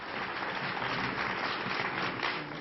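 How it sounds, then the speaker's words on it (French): Children applaud in a parliament chamber after a law is adopted, producing dense, steady clapping that fills the whole stretch with no pauses. "les enfants ont même eu le droit d'applaudir."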